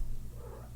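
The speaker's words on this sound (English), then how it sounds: "This is my old cat." An old house cat purrs softly and steadily, a low continuous rumble heard close up and alone.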